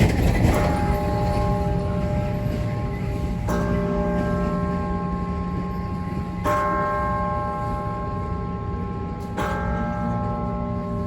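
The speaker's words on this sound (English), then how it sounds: "Arrived just in time to hear the bells peal." Church bells ring out in a sustained peal, with fresh strikes about every three seconds over a dense wash of ringing tones and faint background rumble.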